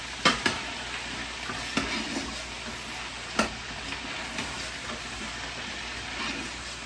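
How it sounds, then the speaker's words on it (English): Cabbage fries in a little oil over medium heat, giving a steady, close sizzle. A few sharp knocks of the stirring utensil against the pan punctuate it. "Give that a stir."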